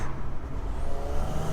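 A stage 3 Audi RS5 tuned to 626 bhp, its intake droning steadily and loudly from inside the cabin with a window slightly open, a constant deep engine roar with some wind noise.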